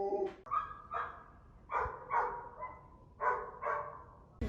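A puppy barks in a quick series of sharp, close barks, about eight in all, coming in short bursts with brief gaps between them, loud and without any talk over them.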